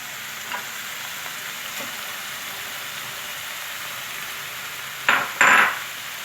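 Steady close sizzling of eggplant frying in a pan, with peppers dropped in near the end bringing a couple of brief louder bursts of hissing.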